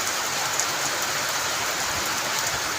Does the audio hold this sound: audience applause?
no